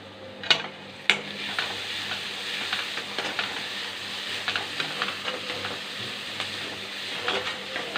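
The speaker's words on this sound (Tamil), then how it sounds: "அதனால நல்லா வெங்காயத்தை நல்லா வதக்கணும்." Onions sauté in a pan for egg gravy, giving a continuous moderate sizzle. Two sharp utensil clinks come near the start, then light stirring scrapes follow with no speech.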